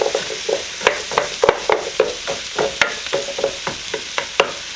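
Frozen meatballs fry in a pan, a steady sizzle broken by repeated sharp scrapes and knocks as they are stirred, close up and with no talking.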